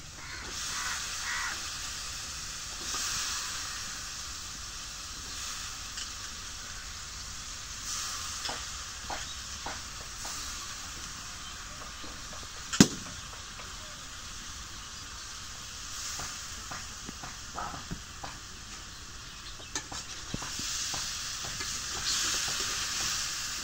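Small birds fry in a spice paste of turmeric and salt, giving a quiet, steady sizzle with occasional soft stirring scrapes and one sharp clink partway through.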